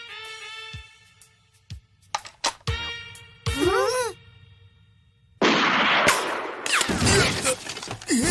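Sharp gunshot cracks and noisy bursts from an animated cartoon ring out between stretches of voices, with harsh blasts crowding the final seconds.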